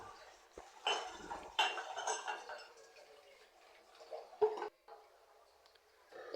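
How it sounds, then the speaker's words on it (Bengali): Cups, plates and bowls being washed in a home kitchen, with sparse clinks and clatters of dishes and cutlery at close range, faint running water, and brief pauses between knocks. "এখন এই তো অনেকগুলো কাপ পিস প্লেট বাটি হয়েছে, এগুলো সাথে সাথে এখন ধুয়ে নিচ্ছি"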